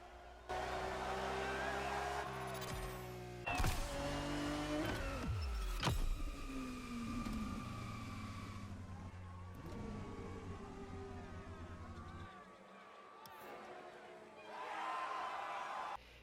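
Lamborghini car driving in the racing video game The Crew Motorfest, a steady engine drone with a couple of brief louder revs and whooshes, fairly close and continuous throughout.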